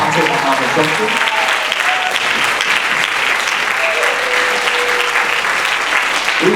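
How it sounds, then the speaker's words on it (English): A large audience at an elementary school spring concert claps loudly and continuously, sustained applause filling the room with a few cheering voices mixed in. "Can we give them a round of applause"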